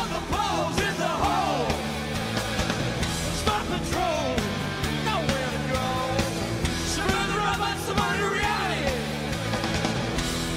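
A big crowd at a concert cheers and yells over loud, dense live band music, a continuous roar of voices and instruments throughout.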